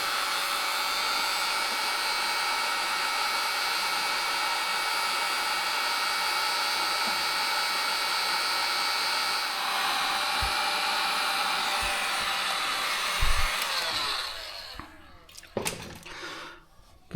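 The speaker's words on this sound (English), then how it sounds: "I'm going to use my heat gun." A heat gun blows a steady, loud hot-air roar while melting solder sleeves on wiring connectors of a Polaris Sportsman 570 harness, then cuts off near the end, leaving a few clicks and handling noises.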